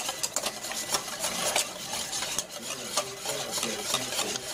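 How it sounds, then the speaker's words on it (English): Aioli with Dijon mustard is whisked in a bowl, producing a fast, steady rhythm of scraping, sloshing strokes, close and continuous with no talk. "we just start whipping this up into shape"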